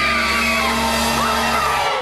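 Children screaming in the British children's TV show Emu's Pink Windmill, a loud sustained chorus of high shrieking voices that holds steady throughout before cutting off.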